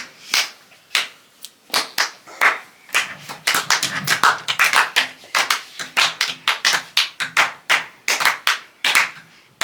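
A crowd of people clapping their hands in irregular, offbeat bursts, with sharp slaps coming in quick uneven clusters and short pauses, fairly close and with no talking.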